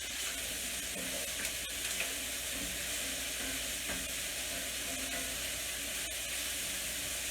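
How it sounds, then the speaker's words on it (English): Tomato paste, garlic and onions cooking in a pan, a soft, even sizzle and hiss with faint stirring, fairly quiet and steady without talk. "So you cook that for about a minute with the tomato paste, the garlic, and the onions."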